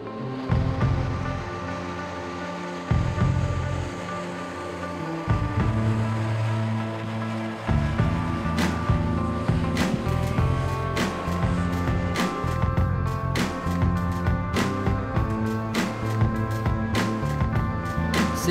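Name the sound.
personal hovercraft engine running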